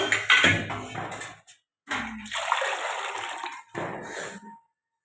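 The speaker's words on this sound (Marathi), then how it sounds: "मी ह्याच्यामधून पाणी घेते" Water is scooped from a vessel with a metal pot and poured in splashy bursts separated by short pauses, close by and fairly loud, while cooking spiced rice.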